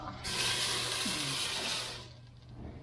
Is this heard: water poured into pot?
yes